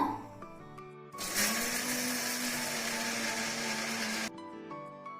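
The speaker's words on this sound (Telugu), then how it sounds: "ఇప్పుడు వీటిని మిక్సీ వేసుకుందాము" A kitchen mixie grinds roasted peanuts with salt for a chutney, a loud steady whirring motor burst lasting about three seconds that starts and stops abruptly, with quieter clinks and handling sounds before and after.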